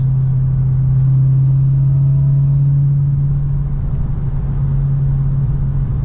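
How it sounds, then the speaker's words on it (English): A supercharged manual Lexus GS400 pulls in fifth gear, its engine holding a loud, steady low drone from inside the cabin with no noticeable rise or break. "fifth gear and you just want to get going a little bit, the supercharger really helps"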